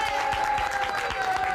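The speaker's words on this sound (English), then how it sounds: "ladies and gentlemen, by way of applause, Tony Atlas." Studio audience applause on a television talk show, a dense, steady wash of clapping from many hands, loud and continuous across the whole moment.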